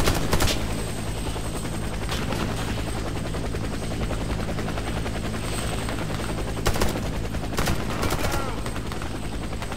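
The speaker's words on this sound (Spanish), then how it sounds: "Ah, hay que matar al helicóptero, ¿ya lo vieron?" Inside a shooter video game, a helicopter's rotor thrums steadily while bursts of gunfire crack out in short volleys near the start, middle and end.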